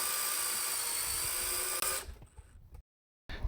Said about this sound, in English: why did we drill these giant pilot holes through 12 inches of wood?